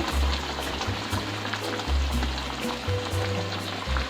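Tomato paste from five tomatoes added to a hot pan for chicken achar gosht, a steady crackling sizzle close by with low humming underneath and no voices.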